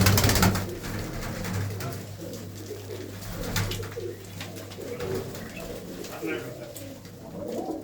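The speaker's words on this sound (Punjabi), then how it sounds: "ਇਹ ਮੋਜੀ ਕਬੂਤਰੀ ਆ" A pigeon coos in soft, repeated low calls near a loft, with voices talking over and around the cooing throughout.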